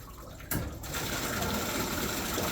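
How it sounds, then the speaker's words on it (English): Water gushes from a tub fill into a bathtub, starting with a sudden splash and then running as a steady rushing stream close by. "you can hit the tub fill button"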